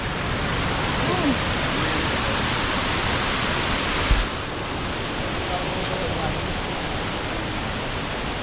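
Steady broadband rushing of the Tumpak Sewu waterfall in East Java, a constant roar that continues throughout and eases slightly partway, with faint voices underneath.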